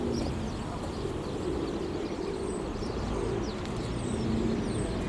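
Pigeons cooing nearby outdoors, soft low rolling coos repeating over a steady bed of outdoor background noise, with faint chirps from other birds higher up.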